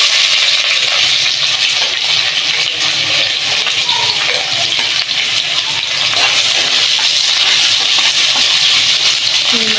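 Thinly sliced onions fry in hot oil with cinnamon, cloves and cardamom, producing a loud, steady, rushing sizzle that continues unbroken throughout.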